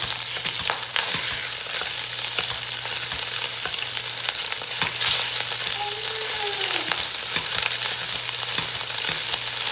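Mild Italian sausage sizzles in a hot pan for sausage and kale cream soup, a loud continuous frying hiss with occasional spatula scrapes and clicks, no voices.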